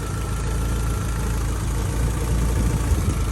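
A Rover BRM turbo engine runs steadily in a Land Rover Freelander with its new exhaust fitted, a continuous loud idle with a constant low drone and no pauses.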